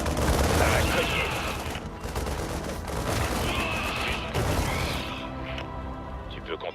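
Rapid bursts of automatic gunfire with booms in StarCraft II: Wings of Liberty, a loud, dense fusillade through most of the stretch that thins out near the end, with voices speaking over it.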